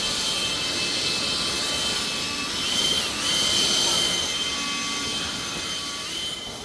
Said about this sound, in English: And there's this one really neat thing that they do with the blower.